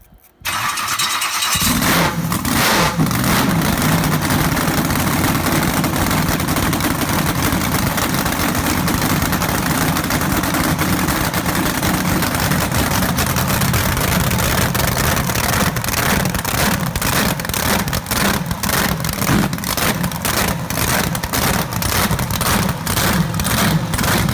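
A 1060 HP supercharged small-block Chevy V8 fires up and keeps running with a loud, continuous, close-up roar and a rough, pulsing blower-engine rumble throughout, with no talking.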